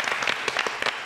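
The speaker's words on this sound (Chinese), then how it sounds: "掌声鼓励。" Brief burst of studio audience applause on a Taiwanese television variety talk show, scattered claps rising in short clusters across about a second, moderately loud with no talk over it.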